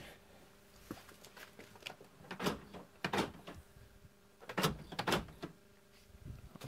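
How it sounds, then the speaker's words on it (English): A series of sharp mechanical clunks and whirring thuds come in pairs from a Toyota's central door locking, separated by quiet pauses. "So if I lock the door in the front, the other will also lock."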